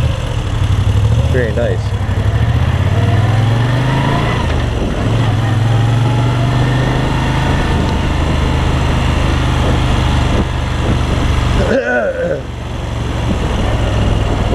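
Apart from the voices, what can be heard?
Moto Guzzi V7 III motorcycle engine running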